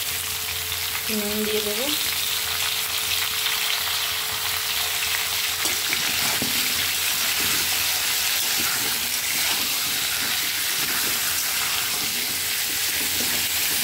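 Pumpkin and potato fry in hot oil tempered with nigella seeds and dry chilli, giving a loud continuous sizzle with occasional clinks of stirring, while a voice speaks briefly near the start.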